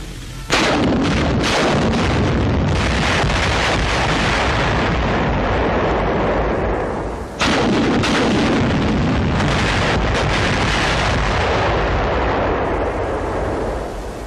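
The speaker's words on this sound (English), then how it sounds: "10 rockets are fired at the pillbox." A Sherman rocket tank fires a salvo of ten rockets at a pillbox, a loud, sustained roar of launches and blasts that briefly drops out midway before surging again.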